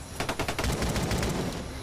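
Rapid gunfire bursts in a survival game, a dense string of sharp cracks firing in quick succession, close and loud, lasting the whole moment without pause.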